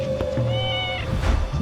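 A cartoon cat in an animated Hindi film gives a single drawn-out meow, loud and close, set against a busy score and scene noise, with no talk over it.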